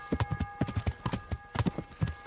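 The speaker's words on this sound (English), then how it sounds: "Wait, get me my horse." A horse in Kingdom Come: Deliverance clops along in a quick, steady rhythm, each hoof strike crisp and close, with a faint tonal hum in the background.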